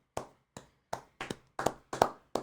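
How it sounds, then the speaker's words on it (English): Podcast hosts clap slowly by hand in a quiet room, about eight separate crisp claps spaced unevenly and heard close, with no talk over them. "A round of applause for Navene."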